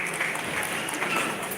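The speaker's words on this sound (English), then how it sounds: "Let's clap for her" An audience at an African teachers' summit claps for a woman on stage, a dense, even wash of handclaps sustained for a short stretch, fairly loud and close.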